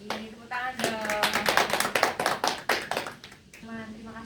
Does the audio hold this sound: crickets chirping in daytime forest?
no